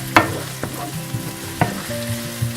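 Chopped onion with a pinch of salt sautéing in a pan for Malvani chicken sukka masala, with a few distinct stirring scrapes and knocks over a low, steady cooking murmur.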